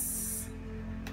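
A brief hissing spray lasts just under half a second, with a second short spritz near the end over a low steady hum.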